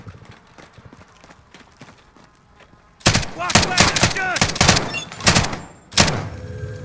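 Sniper gunfire in a video game: after a quiet start, a run of loud, sharp shots and impacts breaks out, with players talking over them.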